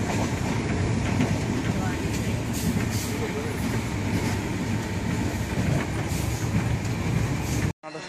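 A passenger train pulls into Mathura station with a loud, steady rumble and wheel noise, some clatter and faint squeal, under occasional talk before cutting off near the end.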